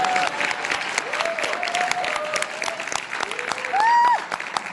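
Dense, loud applause from a seminar audience fills the whole stretch, hundreds of overlapping claps in a steady wash, with a brief sustained tone or cheer rising near the end.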